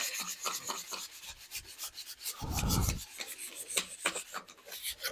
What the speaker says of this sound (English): there's definitely a tonal difference in what the sandpaper sounds like over here